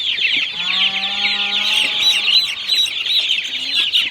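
Young chicks being herded into a coop give a continuous, close chorus of high peeping and soft clucking, with a longer drawn-out call and occasional wing flutters mixed in.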